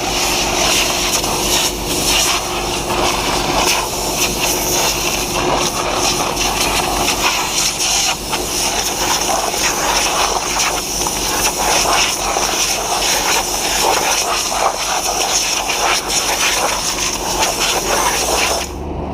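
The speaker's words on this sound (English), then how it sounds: "That's the pump for my brake for my clutch." A hydraulic pump driving a clutch brake runs steadily for the whole stretch, a loud continuous whine and rush with no talk over it.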